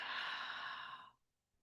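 A deep, steady breath out during a guided meditation, a soft airy exhale that fades into quiet after about a second.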